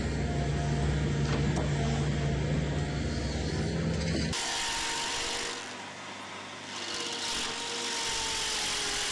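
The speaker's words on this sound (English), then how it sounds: "The Vermeer South Carolina 802 Stump Grinder is a powerhouse designed for unparalleled efficiency in tree care." A Vermeer SC802 stump grinder chews through a stump, its steady, loud machine roar running continuously, with a sudden change in tone about halfway through as the cutting load shifts.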